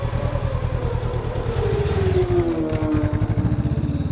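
A motorcycle engine pulls away during a clutch-start riding lesson, its steady low thrum rising in pitch as it accelerates, loud and close throughout.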